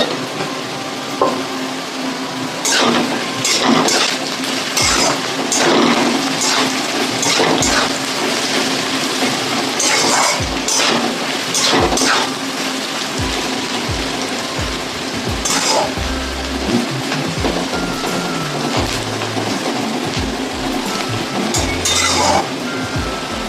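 Bottle gourd peel and potato pieces fry in a pan with a steady background sizzle, broken by clinking and scraping of a spatula stirring the vegetables, with no talking.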